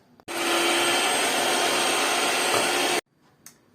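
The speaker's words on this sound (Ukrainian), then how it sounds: "Збиваємо білки." A kitchen electric mixer whips egg whites for a Ukrainian charlotte cake, a loud steady whir running for nearly three seconds alone, then cutting off abruptly into near-silence with a faint clink.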